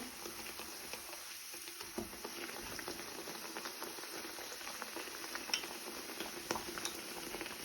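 Oil pitha, Bengali rice cakes, frying three at a time in a large kadai of hot oil, giving a steady close crackling sizzle with scattered pops throughout, no talk.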